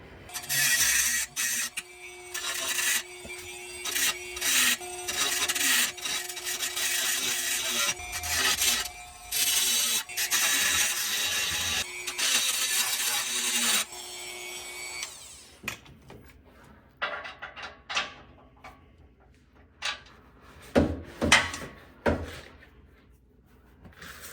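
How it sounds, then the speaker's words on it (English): A tool shaves a flattened corner off a skid plate on a 2024 Jeep Wrangler, making a loud, continuous grinding and rasping for about fourteen seconds, then broken scraping bursts and clunks. "I'm gonna see if I can shave this corner off where it's been flattened out"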